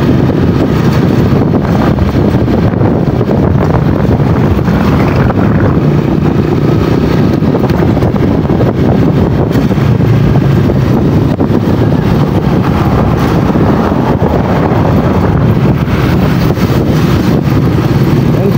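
Constant wind buffets and roars across a moving boat, a dense rushing noise mixed with a low engine rumble throughout, with no voices.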